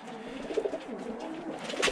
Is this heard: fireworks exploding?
no